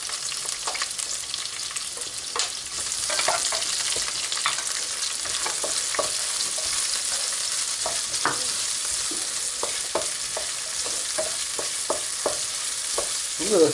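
Sliced peppers hit a hot pan alongside roast squid and fry with a steady, close sizzle, dotted with sharp crackles and occasional stirring scrapes throughout, with no talk.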